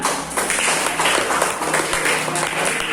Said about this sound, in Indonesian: kasih tepuk tangan temannya